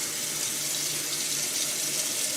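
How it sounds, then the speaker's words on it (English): Cut watercress rinsed under running tap water, a steady close hiss of flowing water into a sink, continuous and fairly loud with no voices. "rinse again before putting in the soup stock"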